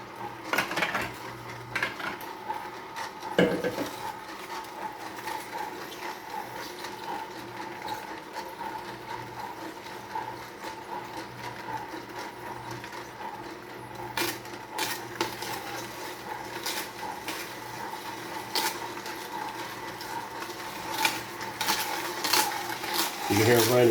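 A Tribest Slowstar juicer grinds celery, giving a steady low motor drone broken by sharp clicks, cracks and scraping knocks as the stalks feed through, with occasional voices nearby.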